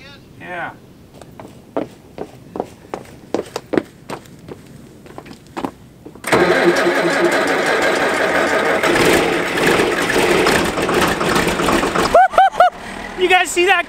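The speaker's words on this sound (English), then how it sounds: "You guys see that cold start? That was pretty cool." A John Deere farm tractor engine cold-starts and settles into a loud, steady idle after a stretch of footsteps and clicking, running for several seconds before cutting out.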